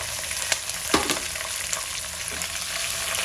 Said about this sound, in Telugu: అవి మంచిగా దోరగా ఫ్రై అయినాక ఫస్ట్ మనం పచ్చిమిరపకాయలు వేసుకుందాము